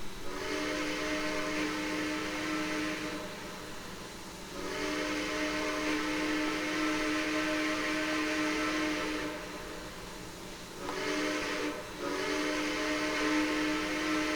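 A steam locomotive whistle on an SP MK5 2-8-2 in the video game Trainz 2019 blows in long sustained blasts with short gaps, loud and hissing, over a low rumbling background.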